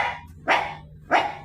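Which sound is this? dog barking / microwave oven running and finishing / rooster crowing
dog barking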